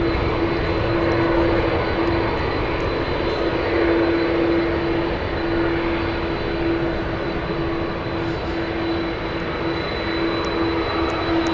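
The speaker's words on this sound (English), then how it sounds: "Iberia flying to Madrid in Spain. That one's going to be taxiing right next to us on taxiway Lima." An Iberia airliner bound for Madrid taxis along a taxiway at San Francisco International Airport, its jet engines a steady, loud whine and roar that holds evenly throughout with no talk over it.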